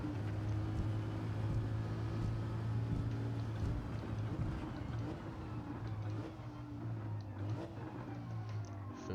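A Lamborghini Huracán LP 610-4 racing on Tokyo Expressway in Gran Turismo 7, a steady droning engine note with shifting harmonic tones, continuous and moderately loud, with no talk.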